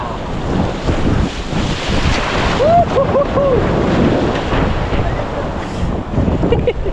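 Ocean waves and steady wind at sea during night crab catching, a loud continuous rush of surf and wind buffeting the microphone, with a few brief voices partly under it.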